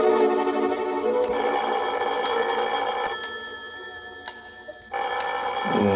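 A telephone bell rings in a radio drama, a steady loud ringing lasting several seconds with a brief pause near the end, with no voices over it.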